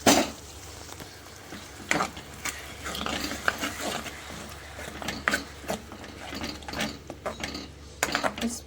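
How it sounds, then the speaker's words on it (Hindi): Tomato paste fries with masala in a pan, a steady sizzle broken by repeated scraping and clattering of a stirring spoon against the pan. "अब इसमें डालते हैं टमाटर का पेस्ट।"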